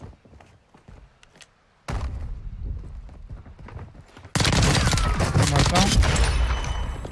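Gunfire crackles in a Warzone match, first sparse scattered shots, then a sudden loud dense burst of rapid fire near the end, with Spanish-speaking players talking over parts of it.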